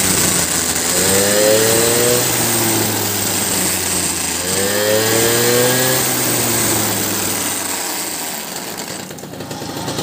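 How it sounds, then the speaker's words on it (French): An MBK 51 Magmax moped engine with a roller variator revs up and down twice, a buzzing high whine that rises and falls over a constant rattly idle, loud and close. "On entend le variateur, je pense qu'il fait son petit bruit un peu gênant"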